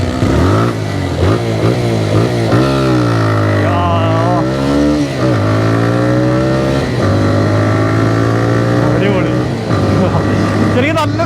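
A 2022 TVS Raider motorcycle rides along a track, its engine droning loud and close with rising and falling revs as it accelerates and eases off, continuous throughout.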